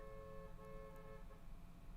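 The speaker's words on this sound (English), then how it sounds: "someone's honking outside my door" A car horn honks outside a door as one sustained, steady tone that holds for about two seconds, faint and muffled as if heard from indoors.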